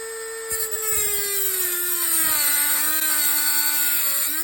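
Grinding cut through a brass bushing on a Moster motorcycle exhaust flange: a steady, loud high-pitched whine of a rotary cutting tool, continuous for several seconds, pitch dipping slightly under load, with no talk.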